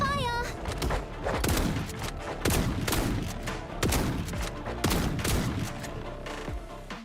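Loud volleys of gunfire ring out in the gacha detective game Silver Palace. The shots come as dense bursts of rapid shots in quick succession over a busy game soundtrack.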